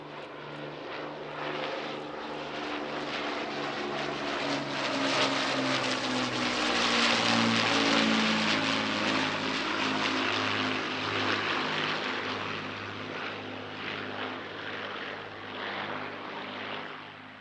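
A Lancaster bomber drones overhead at an airshow, its propeller engines producing a steady, loud, throbbing roar that swells slightly in the middle as it passes, with no talking.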